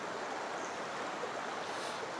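A large river rushes past a campsite at Magdalena, Laguna, a steady broadband wash of flowing water that stays constant and fairly loud throughout, with no voices.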